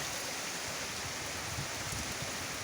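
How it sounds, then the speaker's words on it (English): Rainwater pouring over the rim of an overflowing water butt during a day of heavy rain in Scotland, a steady broadband wash of splashing and trickling water with no talk over it. "And my water butt is overflowing."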